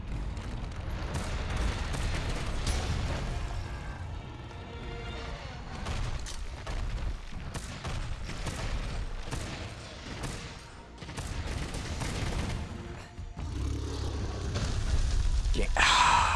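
Repeated gunfire and booms from the video game Monster Hunter: World, dense and loud over steady game noise, with a voice talking over parts of it.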